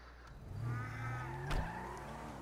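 Car engine in the video game GTA 5 droning and revving at moderate level as the car drives, with a brief thump partway through and no talk.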